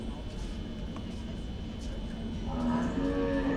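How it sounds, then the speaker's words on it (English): Cattle moo at a livestock show amid a noisy crowd, with a drawn-out low moo rising near the end over the steady background murmur of people talking. "These are way too many cattle, guys."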